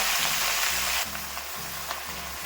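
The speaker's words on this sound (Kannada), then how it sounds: "ಒಂಚೂರು ಎಣ್ಣೆ ಬಿಸಿ ಆದ್ಮೇಲೆ 1 ಕಟ್ ಪಾಲಕ್ನ ತೊಳೆದಿಟ್ಕೊಂಡಿದೀನಿ, ಹಾಕೊಂತಾ ಇದ್ದೀನಿ." Washed spinach (palak) frying in hot oil in a pan, a steady broadband sizzle that drops a little after a second as the leaves settle, with faint stirring clicks throughout.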